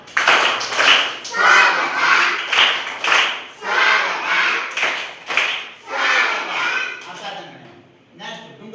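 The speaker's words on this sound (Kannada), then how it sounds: "ರೆಡಿ ಸ್ವಾಗತ ಚಪ್ಪಾಳೆ" A group claps together in a steady rhythmic welcome clap, each round of claps rising and fading in turn over most of the stretch, with voices mixed in alongside the clapping.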